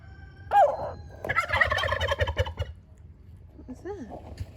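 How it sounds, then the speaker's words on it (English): Several turkeys gobble in a loud, rattling burst among a small backyard flock that includes silkie chickens and a rooster. Wavering bird calls come before and after, with no talk. "are they gobbling every time he crows?"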